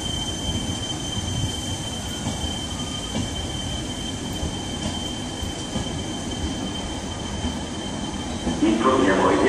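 Train wheels squeal steadily at a station in Sicily, a loud continuous high-pitched screech over rumbling rail noise, growing slightly louder near the end.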